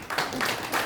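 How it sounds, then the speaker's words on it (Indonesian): A brief burst of dense applause from a church congregation clapping hands during a Sunday service, a close, steady patter with slight swells. "Kita beri tepuk tangan dulu"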